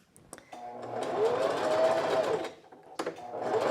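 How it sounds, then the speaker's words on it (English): A sewing machine stitches a skirt seam, running steadily for about two seconds before pausing briefly and starting up again, close and loud. "So I'm going to line it up, back stitch, and I'm sewing."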